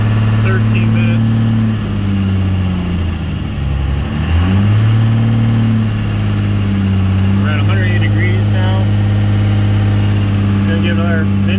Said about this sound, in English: I'm not even going to let it idle, I'm just going to shut it off from high RPM.